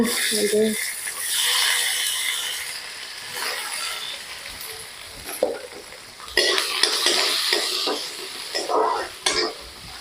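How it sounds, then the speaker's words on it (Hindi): Onion and green chili frying in an iron kadhai, a loud, continuous sizzle with scraping stir strokes and pan clatter that swell and fade in waves, with a brief voice near the start. "कढ़ाई से भी आवाज आती है तो मजा आता है"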